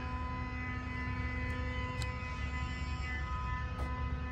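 A 3/4 horsepower electric motor drives the full-length metering auger of a stainless steel 24-roll continuous rotating cage peeler-washer, giving a steady, close mechanical hum with tonal drone and a few faint ticks.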